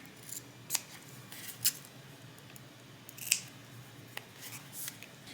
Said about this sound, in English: So you just want to cut right along the line that you drew.